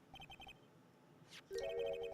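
A phone rings after a redial in the Ace Attorney video game, with a short run of repeated electronic beeps followed by a brighter, sustained melodic ringtone, clear and with no talk.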